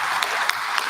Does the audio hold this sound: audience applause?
yes